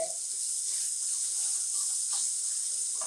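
Beef sizzles on the grill for a Japanese-style soy-glazed dish, a steady, bright hiss that stays even throughout with no other sounds.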